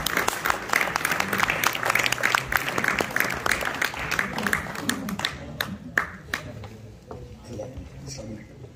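A mushaira audience gives hearty applause to a poet, dense clapping that thins into a few scattered claps, with some voices mixed in.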